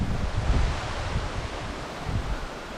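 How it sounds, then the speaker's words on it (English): Steady gusting wind at a campsite in Big Cypress National Preserve in the Florida Everglades, a continuous loud rushing roar with low buffeting on the microphone and no voices. "It's pretty windy right now."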